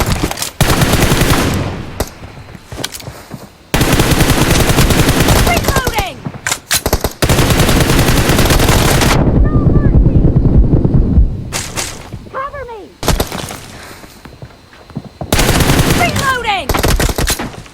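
Shotgun gunfire in the mobile battle royale game PUBG Mobile, sounding as long stretches of loud, dense blasts and rapid shots with brief pauses between bursts, and a few short whistling effects in the gaps.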